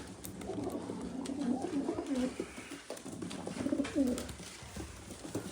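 Pigeons, including a grizzled smoky-colored male, give soft low throaty coos in short repeated bursts, close and fairly quiet against faint background noise.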